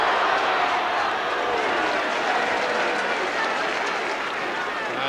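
Rugby league match crowd at Featherstone versus Hull KR applauding a play, a steady broad wash of clapping and crowd noise filling the whole stretch at even, moderate loudness.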